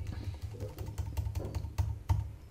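Card number typed on a computer keyboard into a Razorpay payment form, with irregular bursts of close, soft key taps and a few sharper strokes, no voice.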